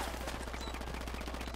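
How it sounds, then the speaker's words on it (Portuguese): Rapid gunfire from Ghost Recon Wildlands rattles off in quick, evenly spaced bursts of automatic shots, fairly faint and distant, continuing steadily under a low game hum. "Ai, tô tomando tiro"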